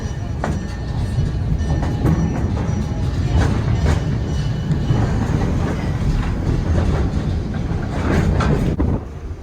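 Train ride on the old Southern Pacific track near Wheeler, Oregon: a continuous loud rumble from inside the car with rhythmic wheel clacks and occasional faint metallic squeals.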